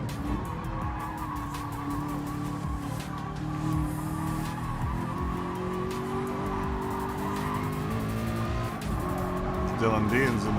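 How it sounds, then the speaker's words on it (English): Race car tires squeal as grip fades on the Tokyo Expressway in GT Sport's FIA Manufacturer's Cup practice, thin rising whines over a steady engine roar, with a commentator talking throughout. "Now we're starting to hear some squeal, but it's because his tires are starting to now kind of give on him."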